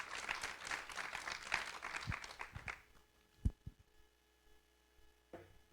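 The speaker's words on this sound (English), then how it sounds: "Why don't we just give a round of applause again for that?" A small business event audience applauds, a dense patter of clapping for a few seconds that quickly thins out to a handful of scattered claps and near silence.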